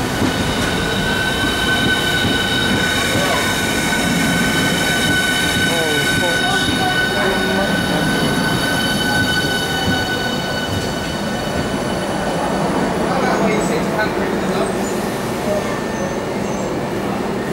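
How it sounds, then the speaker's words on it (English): Southeastern High Speed Class 395 train arriving at Ashford International station, a loud continuous rumble with high wheel whine and squeal as it rolls in close by. "Here comes Southeastern High Speed Class 395."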